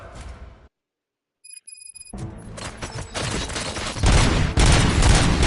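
Gunfire in the video game Robocop: Rogue City: after a brief silence and a few electronic beeps, loud, dense bursts of shots build up and keep going to the end.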